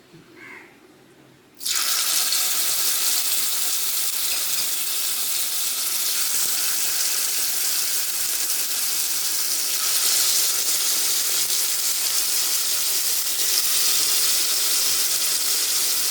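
Chicken pieces drop into about two tablespoons of hot coconut oil in a pan on high heat; a short quiet gap gives way to a sudden loud, steady hissing sizzle that keeps going to the end.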